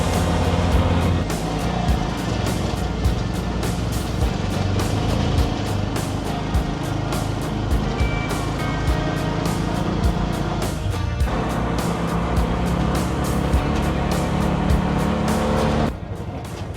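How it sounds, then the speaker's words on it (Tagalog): A tricycle motorcycle engine running continuously and loudly up close, a dense steady drone with rough chugging texture that drops off sharply near the end. "Lakas din ang mga motor na to."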